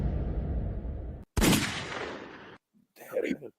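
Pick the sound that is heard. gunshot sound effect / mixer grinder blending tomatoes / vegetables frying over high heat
gunshot sound effect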